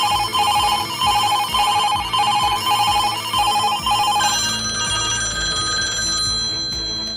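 Old-style landline telephone bell ringing in repeated loud, rapid bursts with short pauses between them, then one longer sustained ring that fades away, heard alone with no voices.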